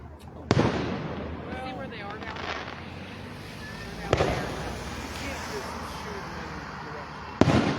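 Fireworks burst over a river at a summer river fest in Lockport, Pennsylvania at night, with three sharp booms spaced a few seconds apart over a background of crowd murmur and people talking.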